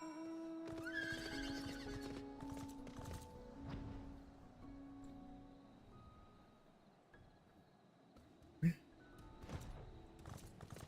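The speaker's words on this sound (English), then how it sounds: "there's something I like about the sound of the Garrow horses on the ground" Horse hooves clip-clopping on the ground in Final Fantasy XIV, with whinnies and neighs, steady hoof rhythm under game music and ambience, plus one sharp loud hit near the end.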